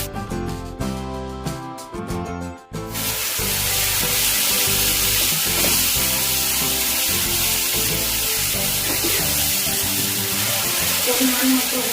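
A paste of garlic, ginger, green chilli, onion and tomato hits hot oil and sizzles loudly and steadily, rising after a few seconds of background music to a continuous close frying hiss.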